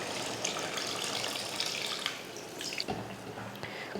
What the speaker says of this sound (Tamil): தண்ணியும் இப்போ சேர்த்துருவோம்.